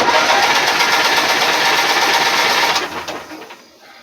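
Starter cranks over the formerly stuck engine of a Bolens QT17 garden tractor in a steady, rapid whirring chug for almost three seconds, then winds down and fades to quiet.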